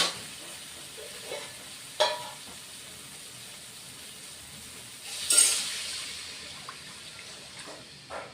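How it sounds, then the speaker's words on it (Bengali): Water goes into a sizzling fried spice paste for a fish curry, with a faint background hiss, sharp splashy bursts around the two- and five-second marks, and sizzling that settles afterward. "মশলাটা কষিয়ে নিয়েছি এবার জল দিয়ে দেব"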